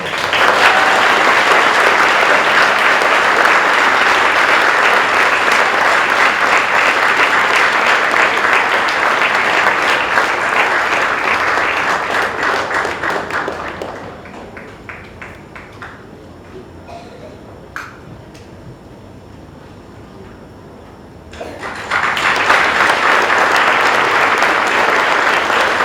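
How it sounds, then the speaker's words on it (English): Audience applauding an award winner at a school presentation day, a loud, dense burst of clapping that runs steadily, drops away to near quiet for several seconds, then swells back up. "applause for her"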